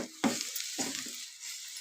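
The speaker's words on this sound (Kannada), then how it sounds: "ಕಾಯಿ ತುರಿನ ಹಾಕಿ ಚೆನ್ನಾಗಿ ಇದನ್ನು ಮಿಕ್ಸ್ ಮಾಡ್ಕೋಬೇಕು" Grated coconut stirred into hot tempering, with a soft sizzle of frying broken by a few scraping stirs of a spoon in the pan, close and quiet with no talk.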